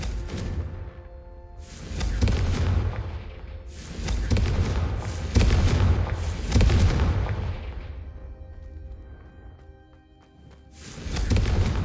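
Confringo blasting spells in Hogwarts Legacy strike candelabras with a series of heavy booms and rumbling impacts, each swelling and fading over several seconds, loud and close.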